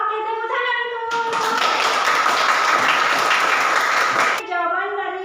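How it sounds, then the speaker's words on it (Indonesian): Classroom applause breaks out for a student group, a dense burst of clapping lasting about three seconds between stretches of a teacher speaking. "Oke, tepuk tangan untuk."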